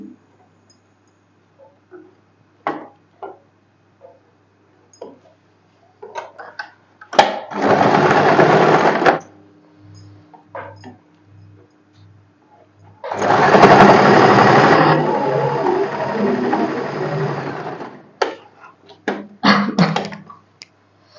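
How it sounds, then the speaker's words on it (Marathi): Sewing machine stitching the shoulder seam of a boatneck blouse with puff sleeves, running in two steady bursts of whirring, the second longer, with short clicks and handling noises between them and no talk. "ओके, तर आता आपण स्टिच करून घेऊया."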